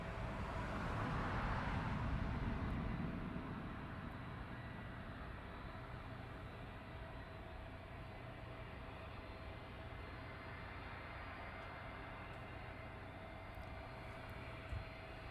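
Distant aircraft taxiing at East Midlands Airport at night, a steady broadband engine rumble with a faint whine, louder at the start then settling to a continuous drone, with no talking.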